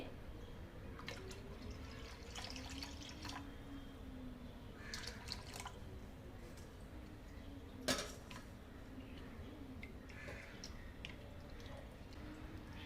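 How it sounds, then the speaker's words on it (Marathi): Water poured into a thick kokum and coconut milk mixture in a kitchen, soft trickling and splashing with faint clinks of a utensil against a vessel, quiet and close. "आता याच्यामध्ये थोडंसं मी पाणी टाकते"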